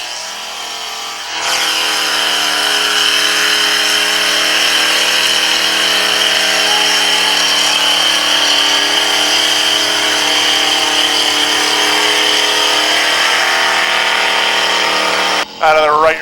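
Loud, sustained engine roar of a dirt modified race car at Airborne Speedway in Plattsburgh, NY, holding a steady high drone for most of the clip after starting abruptly, with a brief dip near the end.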